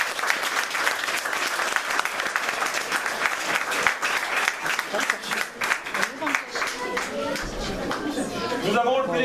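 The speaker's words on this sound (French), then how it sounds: "je vous demande de faire un applaudissement pour eux" An indoor audience at a youth march gathering in Saint-Pierre, Gerpinnes applauds, dense sustained clapping for about nine seconds with chatter and children's voices mixed in, thinning briefly near the end.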